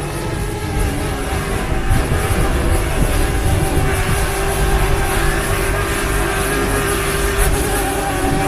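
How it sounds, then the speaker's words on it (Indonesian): A DJI Mavic Mini drone hovering overhead gives a steady, loud motorized hum without pause, with high whining tones layered over low rumble throughout. "Nih, si drone nya udah balik, udah di atas kepala gue."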